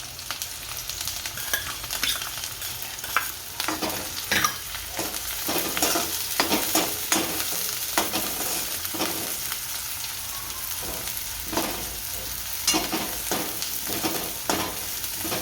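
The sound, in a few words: green garlic and chilies roasting in a pan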